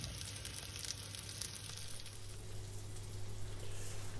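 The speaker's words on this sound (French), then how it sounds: "ça fait 4-5 bonnes minutes que nos échalotes ont commencé à cuire dans le beurre" Shallots sizzle in butter in a pan, a soft, steady close crackle and hiss that carries on throughout with no voices.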